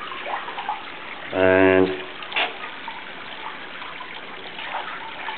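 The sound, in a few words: water gurgling through the tunnel of the Kidney Pools artwork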